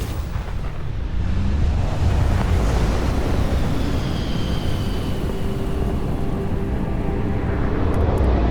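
A spaceship in the video game Starfield roars through flight with a dense, continuous rumbling thrust, joined by faint high whistling tones partway through and no speech.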